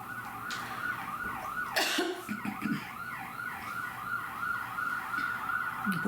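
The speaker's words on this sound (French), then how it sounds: "Laissez passer l'ambulance." An ambulance siren wails outside with a steady rising-and-falling cycle, loud and sustained over street noise, with a brief burst of closer noise partway through.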